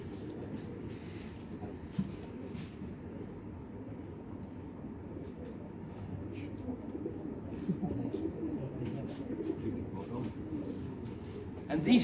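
Jacobin pigeons at the 2024 British Jacobin Society club show coo faintly and intermittently over the hum of a busy hall, with people talking in the background.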